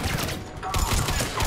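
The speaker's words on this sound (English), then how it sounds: "this single shot carbine is, pretty ridiculous here" A single-shot carbine fires in the Mass Effect 3 video game, with loud, sharp gunfire reports layered over dense battle noise and game sound.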